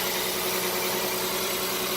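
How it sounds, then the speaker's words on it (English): 3.6L engine of a 2012 Volkswagen Passat idling too high with a bad PCV valve, a steady loud close hum and whine running without change, no voices. "the idling is better"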